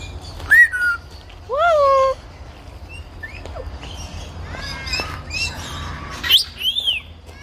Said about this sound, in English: Yeah, it's a parrot.